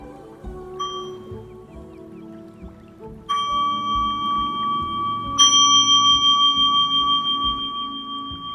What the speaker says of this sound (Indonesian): Saya akan mengakhiri sesi duduk hening ini dengan suara genta kecil